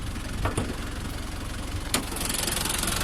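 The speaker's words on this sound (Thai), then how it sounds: "เครื่องดีมากนะครับ สตาร์ทติดง่ายด้วยนะครับ" A Nissan Big-M pickup truck engine idling steadily up close, a dense low rumble with a couple of brief clicks, no talking.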